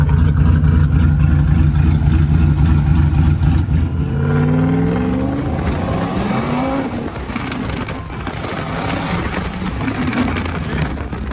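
A 550-horsepower Ford F450 truck fitted with a Striker lift kit is revved hard. The engine roars up in rising sweeps, loud and close, and then holds a rough throttle without any talk.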